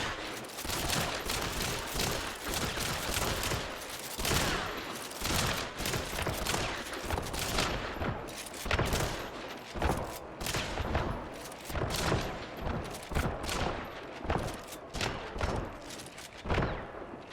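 Rapid gunfire from a Caldwell Marathon in Hunt Showdown, fired from the hip and aimed down sights with and without the Iron Eye sight, emptying full magazines in dense, loud back-to-back bursts of shots.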